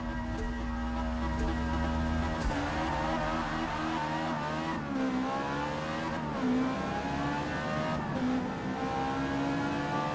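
Lamborghini V12 engine in Gran Turismo 7 revving up toward 9,500 RPM, a loud, sustained high-pitched wail that climbs and shifts pitch repeatedly across ten seconds, with no talk over it.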